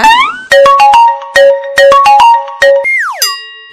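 A mobile phone ringtone plays a bright synthetic melody of short chiming notes, ending in a rising and falling swoop and a final ring, loud and close with no voices.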